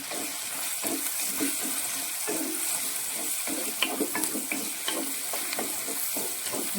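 Ginger, garlic and curry leaves sautéing in hot oil, a close steady sizzle with soft stirring scrapes and small crackles throughout, moderately quiet and without talking.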